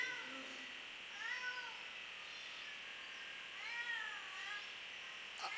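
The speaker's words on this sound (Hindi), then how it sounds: "ये आवाज आती ना बिल्ली की" A cat meows a few times during an outdoor yoga session, its thin rising-and-falling calls sitting faint over a steady high insect-like background hum, with a couple of separate meows spaced apart.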